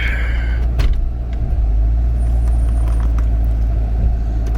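Car idling with a low steady engine rumble while being backed up a short distance, with a brief click and rattle early on and the drone constant and close throughout.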